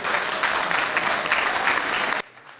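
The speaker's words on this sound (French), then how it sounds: "Donc applaudissez pour ça." Audience applause at a televised gathering, a dense, loud burst of clapping that runs steadily for about two seconds and then cuts off abruptly to near quiet.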